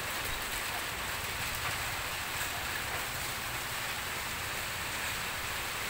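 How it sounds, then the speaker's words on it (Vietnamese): Heavy rain falling outdoors, a steady wash of hiss across the whole clip at moderate level with no voices. "Mưa quá mưa sợ ồn mà anh em không nghe được"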